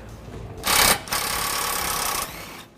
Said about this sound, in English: We are using a impact with the 18 millimeter wrench, uh, socket to tighten it back down.